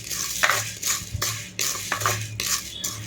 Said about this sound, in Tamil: கடலைப்பருப்பு வந்து சேர்த்துக்கலாம் இதையும் வந்து அதே மாதிரி கொஞ்சம் சிம்லே வச்சு நம்ம வந்து ஃபுல்லாக கொஞ்சம் ஃப்ரை ஆகிற அளவுக்கு ஃப்ரை பண்ணி வந்து எடுத்துக்கலாம்